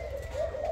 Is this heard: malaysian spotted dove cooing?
yes